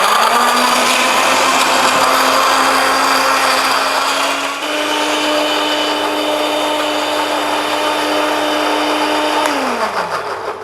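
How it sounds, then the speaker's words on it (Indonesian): A kitchen blender grinds laksa kuning spice paste with a little water, running as a steady loud whirring drone for about ten seconds, then slowing and winding down at the end. "terus kita blender."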